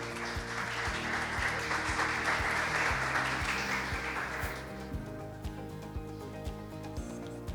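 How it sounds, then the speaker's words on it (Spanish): Sustained applause from an audience at a university panel discussion marking 80 years of university autonomy, steady clapping for several seconds, fading slightly toward the end, no talking. "Un fuerte aplauso, por favor."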